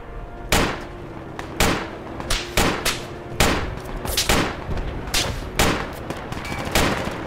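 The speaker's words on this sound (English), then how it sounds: "Heavy gunfire here." Heavy gunfire rings out in the Project Reality video game, with about a dozen loud, sharp shots in irregular bursts, some spaced and some in quick pairs, over quiet background noise.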